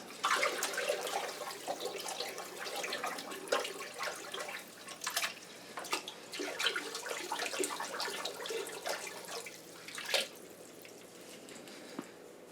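Water in a large fish growout tank is stirred by hand during a water change, making uneven sloshing, splashing and dripping with irregular bursts and no talking.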